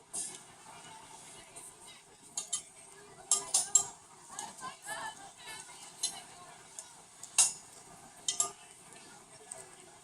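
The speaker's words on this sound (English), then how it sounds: "Let's mix it a little bit." A mixture is stirred in a pot in a few uneven bursts, with soft scraping and light clinks of a spoon against metal. The sounds are fairly quiet and spread across the clip, with a faint voice in the background.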